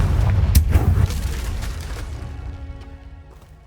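A fire explosion spell detonates in the Hogwarts Legacy game, a loud deep boom with a sharp crack near the start, rumbling for about a second before fading into a long ringing magical tail.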